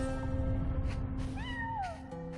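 A cat in the video game Genshin Impact gives a single rising and falling meow, fairly close and clear, over soft background game music.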